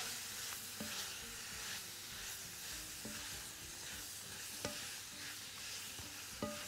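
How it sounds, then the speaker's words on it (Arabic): Minced meat, onion and spices fry in a pan under a soft, continuous sizzle, broken by intermittent scraping and clicking strokes of a stirring utensil at irregular intervals. "ونقلب كده كويس قوي، بحيث ان انا ادخل كل مكونات التوابل مع البصل واللحمة."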